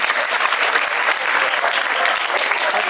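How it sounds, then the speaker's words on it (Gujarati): Loud, dense applause from a school audience at a puppet show and cultural program, steady clapping throughout with no pauses. "જોરદાર તાળીઓથી વધાવીએ."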